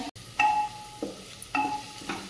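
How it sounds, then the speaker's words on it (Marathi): Finely chopped onion with salt fried in a pan for a rice dish with fresh pigeon peas, a low sizzle broken by a few distinct spatula scrapes and clinks against the metal, nearby and without speech. "कांदा चांगला परततोय"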